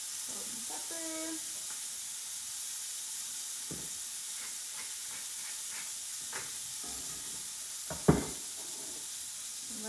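A burger patty fries in a pan with a steady, loud broad hiss and sizzle throughout, a few soft clinks and scrapes on top, and no talking.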